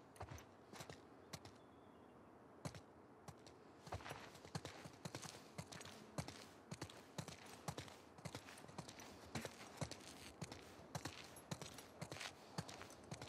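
Steady clip-clop of horse hooves moving at a brisk trot in the video game The Last of Us Part II, with sharp percussive strikes and a few louder cracks over a faint background.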